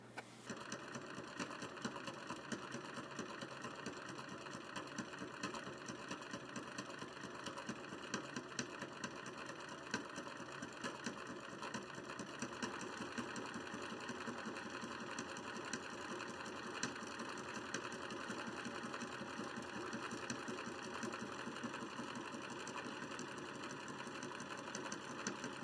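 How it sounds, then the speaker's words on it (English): A sewing machine stitches a felt or cotton lining for a Mary Poppins Returns style hat, running in a fast, steady, rhythmic patter throughout, fairly faint and without speech. "this is where you're going to sew to make it just perfectly fit the felt lining"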